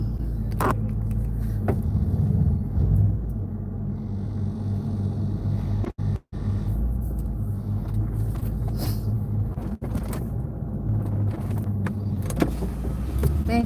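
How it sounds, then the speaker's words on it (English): A car engine idles while warming up, a steady low rumble running throughout with two very brief dropouts near the middle. "I'm gonna warm up my car just right here"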